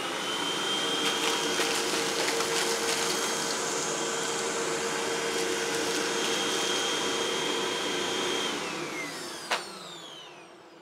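A Hoover vacuum cleaner runs on carpet picking up breakfast cereal, a steady loud motor whine with rattling debris clicks, then the motor winds down near the end.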